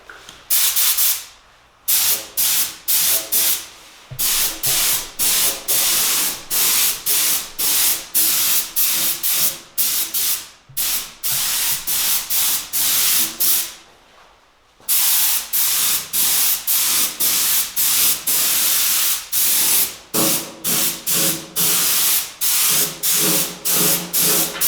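Repeated bursts of spray paint hissing close by onto a mountain bike frame, short pulses with brief gaps, steady and loud throughout.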